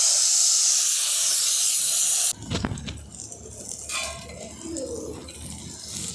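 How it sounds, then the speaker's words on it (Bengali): A loud hiss of steam and spray fills the start, then cuts off, leaving clinks of utensils against a pan as jackfruit seeds fry with salt and turmeric. "এরপর কাঁঠালের দানাগুলোকে ভেজে নেব।"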